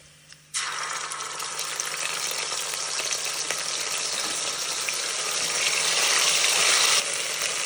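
Masala frying in a pan gives a steady, close hiss of oil that starts abruptly and runs unbroken and fairly loud, with no talking over it.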